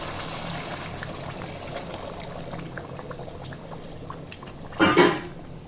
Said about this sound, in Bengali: চুলায় যে পানি গরম করতে দিয়েছিলাম তা ঢেলে দিতে হবে চালের মধ্যে।